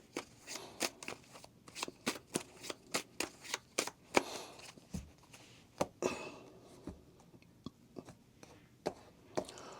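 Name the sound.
shuffling tarot cards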